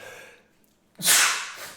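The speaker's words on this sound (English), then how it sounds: "that was a fake sneeze" A single forced sneeze bursts out after a second of near silence, loud and breathy with a sharp onset, then trails off.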